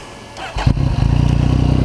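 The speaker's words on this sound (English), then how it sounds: "Let's hear the bike talk. Them engines, though." A 2015 Yamaha FZ-09 (MT-09) motorcycle engine fires up and settles into a steady, rumbling idle with a regular low throb, close and loud.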